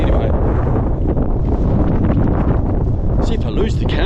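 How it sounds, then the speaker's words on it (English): Strong outback wind roars and buffets straight into a camera microphone, a constant loud rumbling blast that swamps everything else. "it's really windy and I don't have the external microphone on, so it's probably just going to be really icy"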